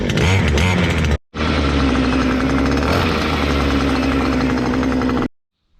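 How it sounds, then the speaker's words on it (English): A Stihl string trimmer's two-stroke engine, roughly 50 to 60 cc, runs loud and close with a buzzing, steady drone, cutting out briefly after a second before restarting and then stopping abruptly. "I'm not sure how many cc's the engine is on this Stihl"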